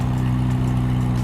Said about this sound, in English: is a valved ARMYTRIX exhaust, which is absolutely deafening